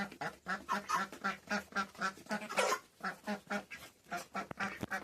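Ducks quack in a rapid, repeating chorus, loud and close, many calls overlapping in a steady rhythm.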